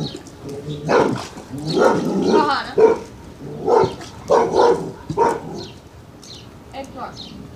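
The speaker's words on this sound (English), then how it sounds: "Another dog was barking at my dog." A dog barks repeatedly at another dog beside a pool, several sharp barks spread across the clip and mixed with people talking nearby.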